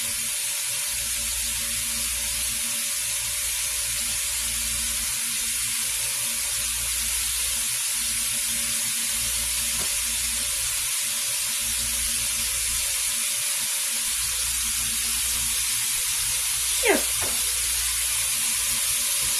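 Hamburger and sausage browning together in a pan on the stove, a constant soft sizzle with a faint low hum underneath and one brief squeak near the end.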